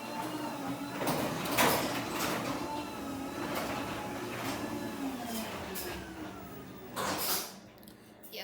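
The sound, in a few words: Chamberlain/LiftMaster garage door shutting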